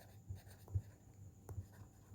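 A marker or chalk scratches across a board during a lecture, making soft, faint strokes with a few slightly firmer taps, quiet against a low room hum.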